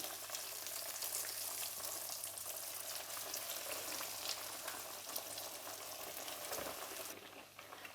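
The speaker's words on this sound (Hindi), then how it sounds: "फ्राई करने के लिए मैंने पैन में ऑयल रखा है, ऑयल गर्म हो गया तो अब मैं इसमें कटलेट्स डाल रही हूँ।" Chicken-stuffed bread kachori fry in hot oil in a pan over medium flame, a dense continuous sizzle that stays close and even throughout, with a slight bubbling edge and no talking.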